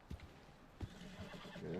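A horse whinnies near a mountain trail, with hoof clip-clops and a couple of sharp thuds scattered through a short, fairly quiet stretch.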